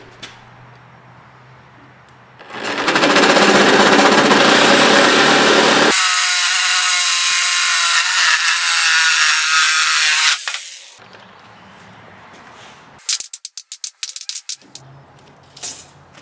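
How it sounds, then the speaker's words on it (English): A saw cuts through a wooden 4x4 post for a raised garden bed with a long, loud, continuous rasping run, followed later by a short series of sharp, separate strokes. "This is the only saw that I have that's long enough to make it through this 4x4"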